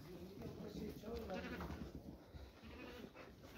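Lambs bleat in several overlapping cries at close range, arriving at a farm with their mothers during a move to the highland pasture, the calls wavering and repeated over low background noise.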